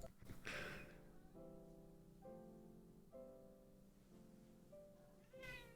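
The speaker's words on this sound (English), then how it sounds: "Meow of protest." A protesting house cat meowing repeatedly, five or six drawn-out complaining meows in an uneven rhythm, fairly close and clear, with a brief scrape or rustle at the start and end.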